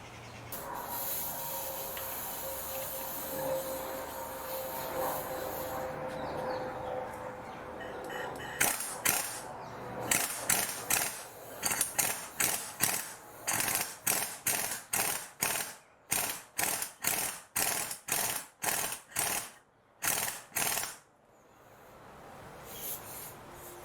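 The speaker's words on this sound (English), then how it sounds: "now I need to press on that, tighten that bolt, and then hopefully that's going to push the joint out" A ratchet tightens a press bolt to push out a steering joint on a Mercedes CLK W208 drag link: a long run of sharp, rhythmic clicking strokes up close, preceded by quieter mechanical hiss and noise, with no talking.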